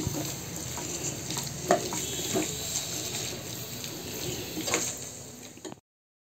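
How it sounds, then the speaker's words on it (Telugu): Cucumber pieces with salt softening in oil in a pan, giving a steady close hiss with a few faint clinks and stirring scrapes and no voices. "దోసకాయ మరి ఇంత పచ్చిగా కాదు, కొద్దిగా ఆయిల్లో మగ్గిపోతుంది."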